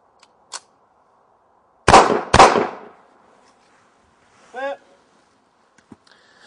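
Two loud gunshots crack close together, fired at a wetted body armour vest, each followed by a short echoing tail, with a faint voice and small clicks before and after.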